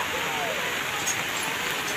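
Heavy, nonstop typhoon rain pours down in Silago, Southern Leyte, with streets already flooding. It is a steady, dense hiss of falling water that runs unbroken and evenly loud throughout.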